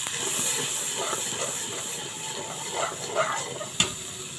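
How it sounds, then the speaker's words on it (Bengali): Salt and turmeric powder fry in a pan as spices are sautéed, giving a steady broadband hiss with a few soft stirring scrapes and a brief clink near the end. "স্বাদ মতো লবণ, পরিমাণ মতো হলুদের গুঁড়া দিয়ে ভালো করে কষিয়ে নেব।"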